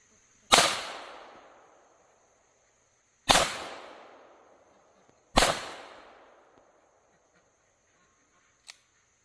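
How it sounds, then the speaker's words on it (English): Three loud, sharp pistol shots from an FN502 firing .22 long rifle tracer rounds outdoors, evenly spaced a few seconds apart, each ringing off in a long fading echo, followed by a faint click. "we're going to take a couple of shots with the tracers and see how the 502 cycles with them"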